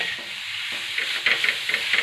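Grated radish being stirred together with turmeric, salt and chilli powder in an iron pan, giving a soft, steady scraping and rubbing with a faint hiss and a few brighter scrapes, close and alone.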